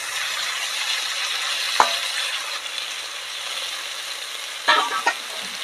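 Fat from katla fish sizzles and fries in an oil-filled pan while being stirred, with a steady close hiss broken by a few sharp scrapes and clatters of the spoon; no one speaks.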